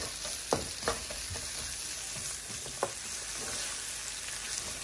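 Onions stir-fried in a hot pan for a simple beef stir-fry, a continuous bright sizzle with a few distinct scraping knocks of a spatula, close and clear without talk.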